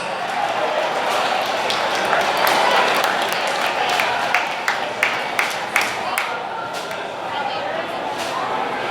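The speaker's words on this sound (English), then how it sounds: "Give them a big round of applause." Racing awards banquet audience at a speedway event applauding, a broad crowd clap with murmuring voices and a few distinct sharp claps in the middle.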